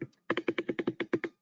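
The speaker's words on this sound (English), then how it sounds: "I can hear some typing." Rapid keyboard typing, about ten crisp evenly spaced keystrokes in quick succession, close and fairly quiet with no talking.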